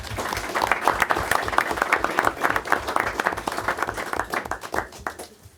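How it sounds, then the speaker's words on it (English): Sustained applause from an audience at a school board of education meeting, dense rhythmic clapping from many hands filling the room and tapering slightly toward the end. "another big round of applause."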